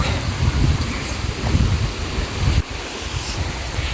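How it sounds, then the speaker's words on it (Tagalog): A mountain river in Mindanao rushes steadily, a loud, broadband wash of flowing water mixed with rumbling wind buffeting the microphone, with no talking. "Yan po yung kanilang ilog."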